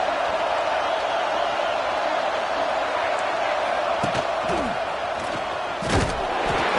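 Stadium crowd in the NCAA 26 college football video game, a dense continuous roar of many voices at a tough venue for visitors, with a few sharp thuds and a swell near the end.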